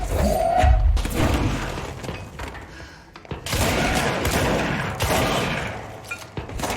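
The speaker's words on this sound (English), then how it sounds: "Who else is still shooting at me?" Gunfire aimed at the player in the game Control comes as a loud burst of rapid shots and impacts, a short lull, then more scattered bangs and crashes, close and dense.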